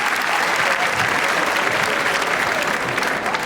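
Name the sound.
audience clapping along in rhythm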